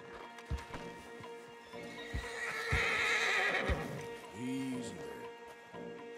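Stallions in Red Dead Redemption 2 give a clear, wavering neigh near the middle, with scattered clip-clop hoof thuds and shuffling around it, all fairly quiet.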